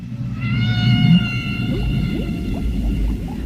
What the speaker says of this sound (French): Peut-être une bonne nouvelle pour les amoureux des baleines, ce sont leurs chants que l'on entend.